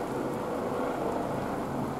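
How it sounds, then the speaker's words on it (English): Steady rain pattering down, a dense even hiss of falling water with no voices. "It's raining as well."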